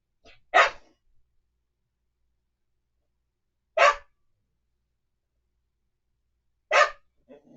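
A dog barks three times, each bark sharp and clear, spaced about three seconds apart with near silence between them.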